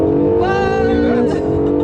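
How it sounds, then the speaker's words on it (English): A Honda/Acura NSX sports car engine revs up with a strong harmonic exhaust note whose pitch climbs steadily, then drops sharply near the end, loud and close with no talking. "I love the exhaust note, you know, in that engine."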